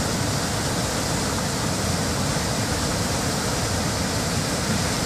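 Heavy floodwater rushing through opened floodgates during a flood, a dense, loud, unbroken roar that stays constant throughout, with no voices.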